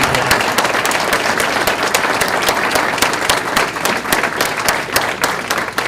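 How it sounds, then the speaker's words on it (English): A graduation audience at Clairview School in 2018 applauds family members, a dense, steady wash of many hands clapping at close range that carries evenly for the whole stretch with no talk over it. "Give them all a big round of applause."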